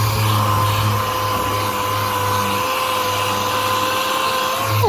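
Sanding a car body over two overlapping strips of masking tape during repair, a steady close-up abrasive whir running continuously, with a sustained tonal hum beneath and no talking.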